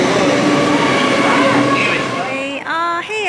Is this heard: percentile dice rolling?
no